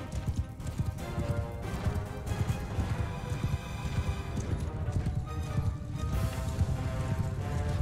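Galloping horse hooves in the medieval combat game Mount and Blade 2: Bannerlord, a steady rapid clip-clop rhythm running throughout over a busy battle backdrop, with no talk.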